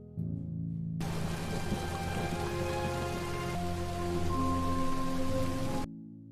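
Heavy rain falls in a dense, steady patter on surfaces, holding at an even loud level for several seconds without any voices before cutting off abruptly.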